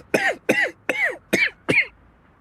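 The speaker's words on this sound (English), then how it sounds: "you should really see a doctor if that cough continues" Five harsh coughs in a steady rhythm, each one close and loud, from a person at a pharmacy counter, followed by a short silence.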